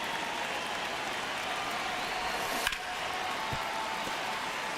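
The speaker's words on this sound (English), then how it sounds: "Crowd getting settled here at Dodger Stadium." A stadium crowd at Dodger Stadium in the MLB The Show 26 baseball game gives off a steady broadband roar and murmur, with one brief sharp crack partway through.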